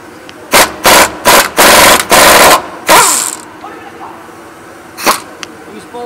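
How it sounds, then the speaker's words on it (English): A 1/2-inch impact gun removing drive shaft bolts at the rear yoke, five loud close hammering bursts in quick succession, then a brief spin-down and one short later burst. "and a 1/2-inch impact gun."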